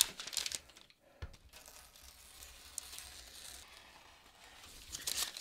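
Scissors snip through a traced paper pattern for a cowl neckline, close and quiet, giving short crinkling, tearing cuts with brief pauses and paper rustle.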